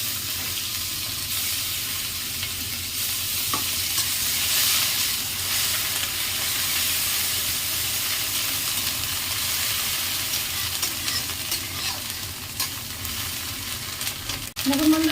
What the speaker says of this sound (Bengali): এবারে পেঁয়াজ বাটাটা দিয়ে দেবো